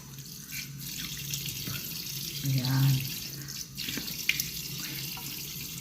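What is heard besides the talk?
water running from hotel sink faucet, rinsing face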